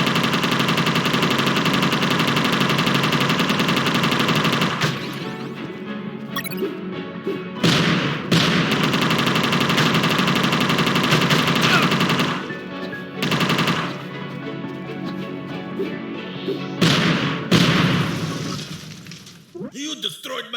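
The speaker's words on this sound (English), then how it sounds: "You destroyed my machine gun!" Machine gun fire in the video game UNMETAL: long sustained bursts of rapid gunfire broken by short pauses, with crashing impacts and breaking debris, loud and close, and a character's voice speaking at points.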